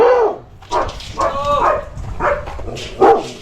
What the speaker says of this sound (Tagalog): Lalaki ng aso.